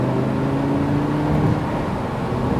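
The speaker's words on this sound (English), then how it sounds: "Start to accelerate for me, Darren." A Lamborghini Huracán accelerating on a race track gives a steady, loud engine drone with rising tone, heard from inside the car without a break.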